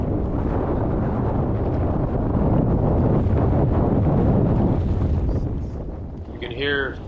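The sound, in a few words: strong wind buffeting the microphone on a boat in San Francisco Bay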